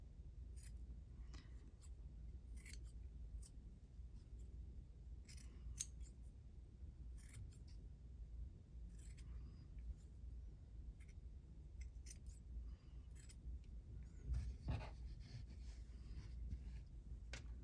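Scissors snip through paper or fabric while cutting out small squares for stitched journal embellishments, giving a quiet series of short, crisp, irregular cuts close up in an otherwise hushed room.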